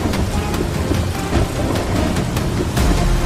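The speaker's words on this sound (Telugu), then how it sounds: "ఆ భయంకరమైన వర్షం భూమి అంతటా వ్యాపించింది" Steady heavy rain pours down in a dense, hissing wash, with a low rumble underneath and scattered sharper drop hits.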